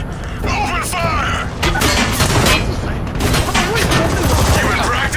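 Heavy gunfire in the Army of Two: The 40th Day video game: dense, continuous automatic fire with booms and crashes, loud throughout, under shouted voices.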